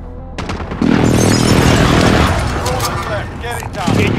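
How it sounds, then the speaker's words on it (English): Enemy precision airstrike in Call of Duty Warzone: loud booming blasts and rumbling explosions mixed with gunfire, building after a brief lead-in, with in-game voice announcements heard over the din. "Enemy precision airstrike."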